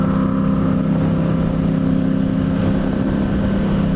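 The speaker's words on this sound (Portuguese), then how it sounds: "Barulhão da MT" A Yamaha MT motorcycle engine roars steadily, loud and close with a continuous low rumble, uninterrupted by talk.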